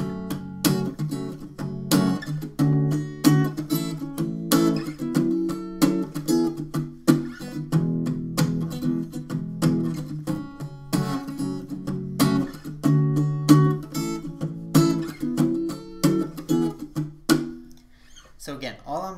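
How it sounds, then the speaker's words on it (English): A palm-muted acoustic guitar strums a song's chords in a steady, dampened rhythm, with close, percussive chord hits continuing for the whole stretch before fading near the end. "all I'm doing is resting my palm over here on top of the strings, just barely touching over the bridge"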